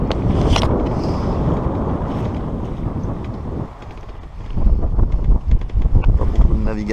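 Steady wind roars and buffets across the microphone aboard a sailboat cruising off the French Riviera near Dramont, a broad loud rush that dips briefly midway, then returns with gusty, uneven surges.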